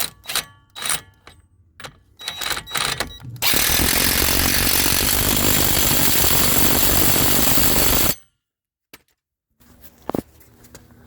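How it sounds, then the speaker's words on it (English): An impact wrench or power tool runs nut back onto a 2017 Chevrolet Volt during a brake-area repair, preceded by clanking tool handling, then a loud sustained whir of about five seconds, followed by a few faint clicks. "And the nut is going back on."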